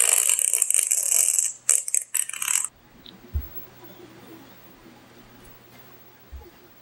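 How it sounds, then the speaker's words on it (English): Recorded fart noises played back as a greeting: a burst of loud, raspy, sputtering blasts, then a few short ragged bursts before fading into quiet room noise with faint low thumps. "It was fart noises."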